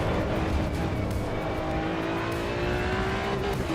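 A Maserati GT3 race car in a racing video game at the Nordschleife gives a continuous engine drone that climbs slowly in pitch as it accelerates, with no talking over it.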